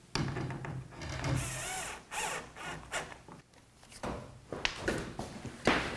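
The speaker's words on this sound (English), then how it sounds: "we still have to drive fastener 6 through this hinge" A power drill drives a fastener through a door hinge during a hurricane-zone door installation, heard in several short close whirring bursts separated by handling clatter and pauses.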